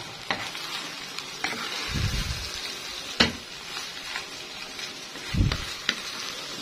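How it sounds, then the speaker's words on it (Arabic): Washed, drained rice being stirred into hot oil in a pot, a steady sizzle and fry broken by scraping spoon strokes and a few louder clanks against the pot. "تقليبة حلوة كده، اخلي الرز كله يتغلف بالزيت كده اللي تحت اهو."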